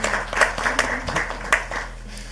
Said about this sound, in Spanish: Un aplauso a Laura